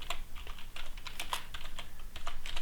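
Rapid, uneven clicking of a computer keyboard as someone types a search into a web page, close and steady with no voices.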